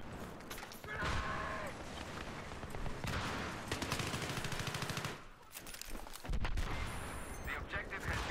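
Battlefield 3 battle on the Grand Bazaar map with heavy explosions and rapid machine-gun bursts layered into a dense, loud barrage, broken by short pauses, with a voice talking faintly underneath.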